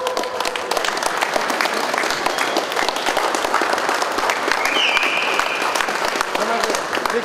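A crowd at a village volleyball championship and circumcision celebration claps in dense, sustained applause for a teacher, with voices mixed into the clapping.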